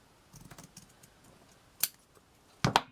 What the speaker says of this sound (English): you take your scissors and you're going to cut at an angle